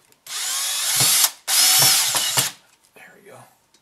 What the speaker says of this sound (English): I'm going to put one more screw on the other one.